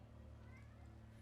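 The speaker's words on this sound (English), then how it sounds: "Hey, Pocket the Cat" A house cat meows faintly and briefly over a steady low hum and soft background sound from the Darkest Dungeon game.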